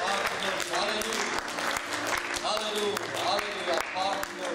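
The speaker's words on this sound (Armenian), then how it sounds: "Տան Տիրոջը մեծ ծափահարություններ այս քանչերի մանկանց համար" Congregation clapping during a church service, a dense, continuous round of applause from many hands with a voice talking over it.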